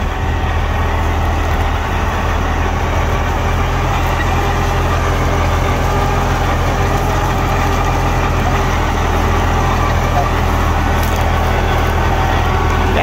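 A New Holland 6510 Excel 65 HP tractor with a roughly 2900 cc engine idles smoothly, a loud, steady, unbroken diesel rumble close by throughout, with no talking.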